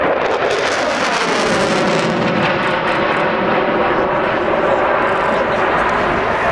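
A military jet, a French Air Force and French Navy type, flies at the RAF Cosford air show. It makes a loud, continuous roar with wind buffeting, close and overwhelming throughout, and a public-address voice speaks faintly beneath it.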